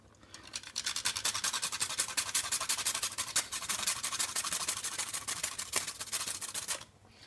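Whole nutmeg rasped against a grater for lasagne, a steady close run of quick scraping strokes lasting several seconds and then stopping, with no talking.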